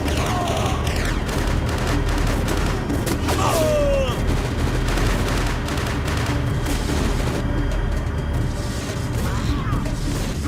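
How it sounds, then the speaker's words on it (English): Dense, continuous gunfire and explosive booms from a battle in the 2006 PC game War On Terror, loud and layered with mechanical clatter and brief radio-style voice chatter throughout. "Firing at will."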